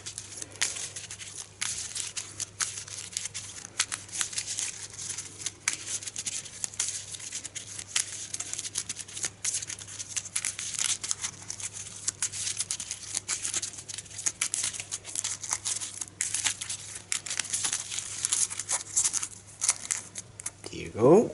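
Rapid papery riffling and flicking of a board game's playing cards being shuffled repeatedly continues throughout, with a faint steady hum beneath.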